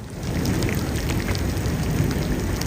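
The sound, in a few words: rain falling in Iowa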